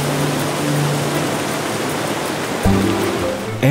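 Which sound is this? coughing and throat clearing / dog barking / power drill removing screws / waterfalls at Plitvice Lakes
waterfalls at Plitvice Lakes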